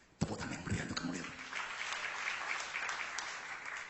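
An audience breaks into hearty applause during a church sermon, the clapping swelling quickly and holding steady as a dense, close wash of many hands.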